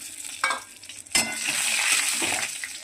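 Cumin, garam masala, bay leaves and dried red chillies hit hot ghee with a sharp crackle, then settle into a steady, bright sizzle with a few spattering pops.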